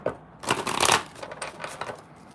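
Tarot cards being shuffled by hand, a quick papery riffle and rustle lasting about two seconds, close and clear with no talking over it.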